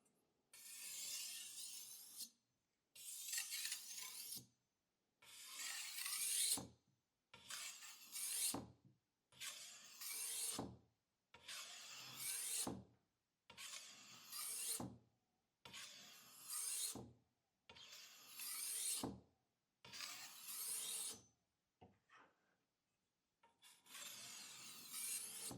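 Fine-grit whetstone sharpening of a kitchen knife: about ten separate rasping strokes of the blade across the stone, each lasting roughly a second and a half with a short pause between, close and steady, with no talking.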